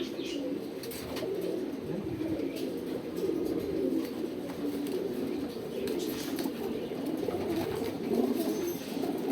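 Racing pigeons coo softly and repeatedly in a loft, a low rolling murmur of overlapping calls with faint rustling. There is no clear speech.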